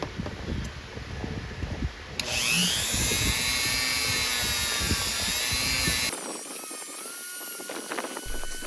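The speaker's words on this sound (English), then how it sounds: "Sorry about the fan noise" A fan runs in a hot garage, a steady loud whirring drone from about two seconds in that drops away near six seconds, leaving softer clattering workshop noise.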